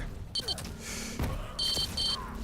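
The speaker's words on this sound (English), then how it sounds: "even more satisfying if you hear first the high beep and then change it to the lower beep" Quake Champions hit-indicator beeps ring out as repeated short high electronic tones in two quick bursts, amid gunfire, explosions and other game effects.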